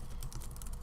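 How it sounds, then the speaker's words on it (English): Soft, quick keystrokes on a computer keyboard during a small craft studio session, a faint rapid patter of light taps over low background hum. "we'll type in gingerbread candle"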